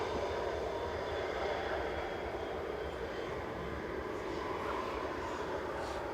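A Kuwait Airways Airbus A320, registration 9K-AKR, arriving at Manchester Airport from Kuwait City, makes a steady, fairly faint broadband jet roar with a thin high whine, unbroken across the moment.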